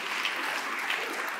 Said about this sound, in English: let's all just give Nate a hand clap